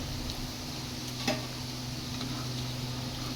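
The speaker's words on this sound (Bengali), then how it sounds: "পনির ভাজার সময় বোঝা যায় যে পনিরটা কত ভালো" Paneer cubes fry in oil with a quiet, steady sizzle, faint and close, broken once by a small tick of utensil contact and carrying no voices.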